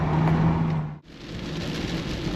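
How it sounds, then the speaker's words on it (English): Light rain falling steadily outdoors near a cargo van, a continuous broadband hiss with a brief dropout around one second, with no talk. "Starting to rain a little bit."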